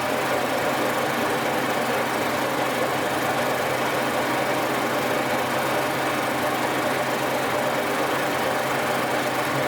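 A boring bar tool bit cuts through a bore on a boring machine, a continuous loud mechanical drone and rumble with steady vibration and no pauses throughout.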